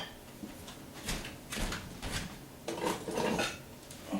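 Kitchen utensils clink and rattle while someone fetches a whisk, with several bursts of metallic clatter and a drawer-like rummage, close by and without talking.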